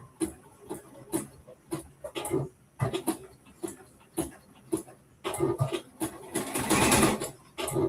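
A sewing machine stitches a seam at a half-inch allowance while sewing a top, running in short bursts with stops between, close and moderately loud, building to a longer run near the end.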